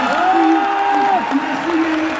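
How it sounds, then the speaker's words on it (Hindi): An audience at an FLP success day and diamond ring ceremony applauds loudly and steadily, the clapping running under a sustained amplified voice. "जोरदार तालियां हो जाए उनके लिए।"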